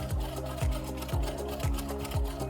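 Sewing machine stitching quilt binding with a steady mechanical whir and a rhythmic thump about twice a second, close and continuous, no talking.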